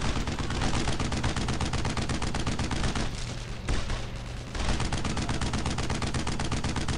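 Rapid automatic gunfire in the World War II shooter Brothers in Arms: Road to Hill 30, loud and close, with tightly spaced shots running almost the whole time and a brief lull midway before the firing resumes.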